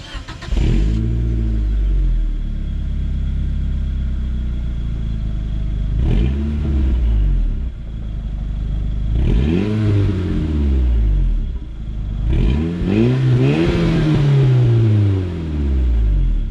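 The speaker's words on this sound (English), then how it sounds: "We're gonna go ahead and give her a start up and get an exhaust clip" A 1992 Eagle Talon TSI AWD engine starts and idles, its exhaust rising in several loud revs that sweep up and fall back, close to the tailpipe with no talking.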